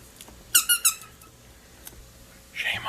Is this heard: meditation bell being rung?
no